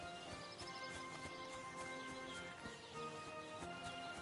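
Hoofbeats and a horse whinny from the medieval video game Kingdom Come Deliverance 2, clopping steadily under a busy bed of game music and ambience for several seconds.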